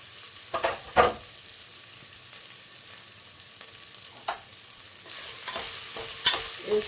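Onion and green chilli pieces frying with ginger-garlic paste, soft sizzle under repeated spoon scrapes and clinks against the pan, fairly close.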